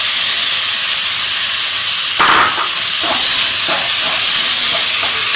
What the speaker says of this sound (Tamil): ரெண்டு பெரிய சைஸ் தக்காளி நீளமாக வெட்டி வச்சுருக்கேன், அது உள்ள சேர்த்துக்கிறேன்